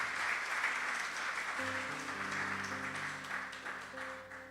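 A church congregation claps loudly and steadily, filling the room with sustained applause while soft held organ or keyboard tones enter partway through.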